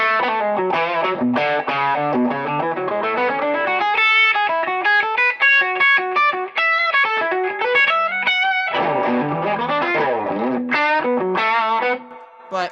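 Electric guitar through stacked Jan Ray and Supreme overdrive pedals, heavy and saturated, playing a continuous run of chords and single notes, loud and sustained, alone without voices.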